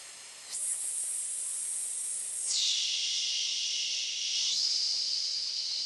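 A forceful, steady exhale hisses out in long bursts during a breathwork routine, close and fairly soft, with the breath tone shifting partway through and continuing without talk.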